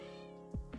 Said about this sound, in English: I don't know if you can hear my cat meowing.